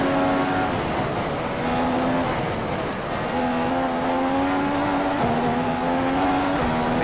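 Simulated Formula One race car in F1 2015 at the Australian GP, its engine droning steadily through the clip with pitch climbing and dropping as gears shift and the car brakes and accelerates around corners.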